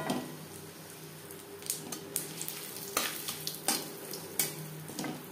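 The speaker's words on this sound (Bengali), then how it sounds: "ফোড়নে দিয়ে দিলাম 1/2 চামচ গোটা জিরে, একটা তেজপাতা যেটা আমি টুকরো করে নিয়েছি" Whole cumin seeds and a torn bay leaf sizzle in hot oil in a pan, a low steady frying hiss broken by several scraping stirs, close and free of talk.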